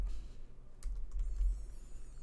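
Keyboard keys tapped while entering text in Photoshop, a handful of quiet clicks in an otherwise calm room with a low background hum.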